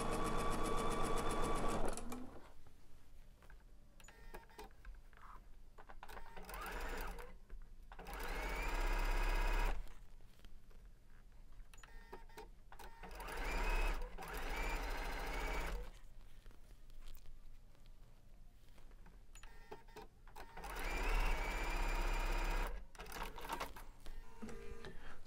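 Sewing machine stitching quilt block pieces along a quarter-inch edge, running in several bursts of steady rapid whirring separated by pauses, close and fairly loud, with no talking.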